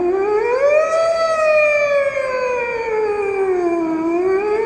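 An alphorn imitates a siren, one loud sustained brass tone that glides up, holds, then slowly sinks and climbs again in a smooth wailing sweep.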